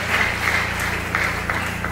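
A church congregation at an anniversary service claps steadily together, a dense continuous patter of many hands filling the room, loud and sustained.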